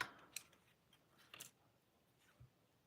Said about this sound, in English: our little border strip, I'm going to have to snip it